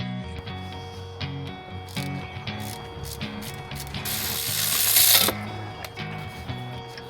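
Ratchet wrench working loose the 10mm caliper bolts on a Grand Marquis during a wheel bearing and axle job, a steady run of close metallic clicks with a louder burst of rapid clicking partway through, and no one talking.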